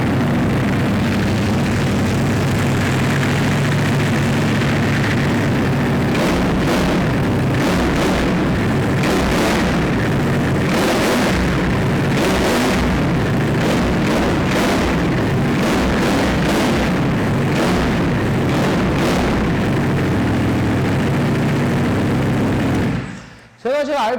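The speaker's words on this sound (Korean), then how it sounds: "아크라포비 머플러의 배기 사운드 한번 들어보고요" Loud, continuous exhaust roar from a 2019 Ducati Panigale V4S with an Akrapovic muffler, deep throaty rumble and rising and falling revs up to about 3,000-4,000 RPM, cutting off abruptly at the end.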